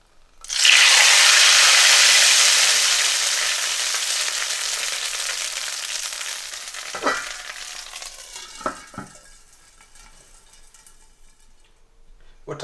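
Hot tadka poured into a pan of halim erupts in a loud burst of hissing sizzle that slowly fades over several seconds, followed by a few clanks of a utensil or lid against the pan.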